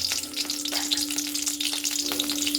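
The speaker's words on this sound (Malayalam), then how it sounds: "അപ്പം എണ്ണ ചൂടായി കഴിഞ്ഞാൽ നമുക്ക് അതിനകത്തേക്ക് കടുക് ഇട്ട് കൊടുക്കണം" Mustard seeds go into hot oil and fry with a dense, continuous sizzle and crackle, close and fairly loud, over a faint steady hum, with no talking.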